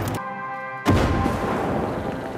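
A single heavy cannon blast launching a grenade in Far Cry 6, one loud booming report with a rough, rumbling tail, following a brief steady humming tone.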